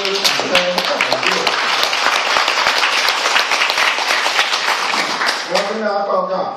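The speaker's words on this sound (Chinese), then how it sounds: "那我们先给王老师掌声感谢。" A live lecture audience bursts into sustained, dense applause in thanks for teacher Wang, loud and steady across the whole stretch, with a voice briefly rising over it near the end.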